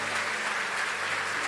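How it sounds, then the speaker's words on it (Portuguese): A church congregation claps steadily in dense, continuous applause, moderately loud and sustained throughout the short stretch. "Você pode dar uma forte salva de palmas para Jesus?"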